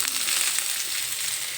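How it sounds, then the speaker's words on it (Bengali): Close, steady crackling sizzle of spiny gourd (kakrol) frying in oil, with a few light scrapes and taps from stirring, moderately loud and free of voices. "একটু নেড়ে চেড়ে নিলাম কাঁকরোলগুলো।"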